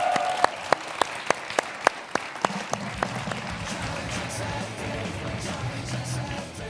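At a live developer event prize draw, a few sharp, distinct claps ring out near the start, then swell into broad audience applause that continues steadily to the end.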